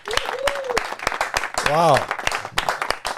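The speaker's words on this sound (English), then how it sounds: "a big round of applause" A live audience claps and cheers for a guest at Paco's Place, a podcast taping; dense, close applause swells around a voice exclaiming, with music playing underneath.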